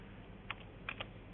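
A few quick keyboard taps, about three clicks in a short burst, as a port number and IP address are typed into a browser on a computer; close, faint and without speech.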